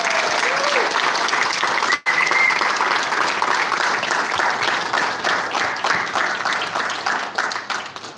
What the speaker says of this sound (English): let's help him to wake up with a big round of applause